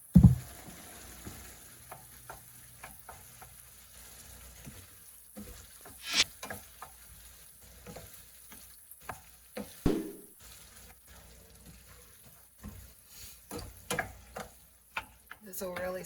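Onions, celery and garlic sizzle faintly in a pan, a steady soft frying hiss with occasional ticks and pops beneath a person talking.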